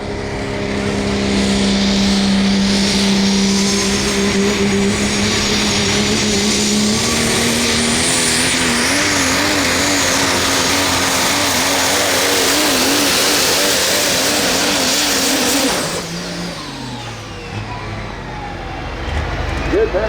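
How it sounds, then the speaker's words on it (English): Super stock diesel pulling truck roaring at full power through a truck pull, a loud sustained engine howl with wavering pitch that drops off as the pass ends. "Diesel super stock is firing up down there again."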